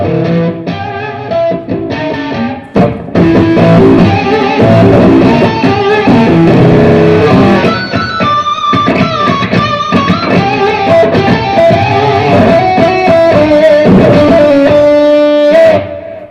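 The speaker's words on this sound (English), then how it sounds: "So these kind of fuzzes sound good when you're in front of another like distortion pedal." Loud, fuzzy distorted electric guitar played through a fuzz pedal alone plays chords and single-note riffs continuously, thick and saturated, with no talking.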